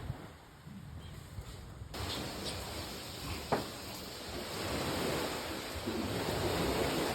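Sea waves wash continuously onto the shore in Bantulan, Taytay, Palawan. The surf sounds like broad, faint rushing noise that swells gradually, with a brief thump in the middle.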